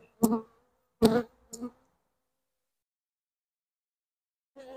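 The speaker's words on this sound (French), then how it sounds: "Petit essaim de l'année." Bees from a small swarm of the year, housed in a nucleus hive, buzz in a few short close passes, with quiet gaps between them and one more buzz at the end.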